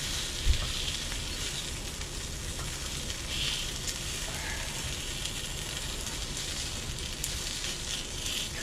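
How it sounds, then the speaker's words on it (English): Food burning and sizzling in a pan with no oil over a gas flame outdoors, a steady crackling hiss with faint clicks and rattles throughout. "Normally I put some oil in with this or something, you know, but I forgot it today, so it's burning quite a lot"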